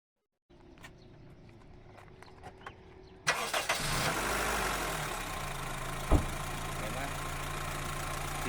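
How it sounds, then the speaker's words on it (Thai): A third-generation Honda CR-V with a 2.0-litre engine and four-wheel drive sits quiet, then cranks and fires up abruptly, settling into a steady close idle with one sharp clack partway through. "เดี๋ยวสตาร์ทเครื่องให้ดู"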